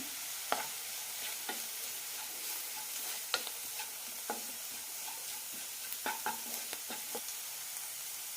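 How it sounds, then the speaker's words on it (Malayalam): Chopped onions cooking with chilli powder, garam masala and turmeric are stirred in a hot pan for bread samosa filling, with a soft continuous sizzle broken by repeated scraping strokes of the spoon. "മസാലകൾ ഇടാം ഓരോ ടീസ്പൂൺ വീതം മുളക് പൊടിയും ഗരം മസാലയും അര ടീസ്പൂൺ മഞ്ഞൾപ്പൊടി ഒന്നായി മിക്സ് ചെയ്യാം"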